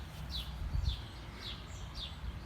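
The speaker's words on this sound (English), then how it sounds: "just listen to the birds chirp" Birds chirp outdoors in a steady series of short, high tweets, about one every half second, over a low background rumble.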